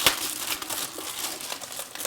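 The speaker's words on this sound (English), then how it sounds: "And then it comes in this plastic." Clear plastic packaging around an Inateck iPad Pro keyboard case crinkles and crackles continuously as it is handled up close, with no talk over it.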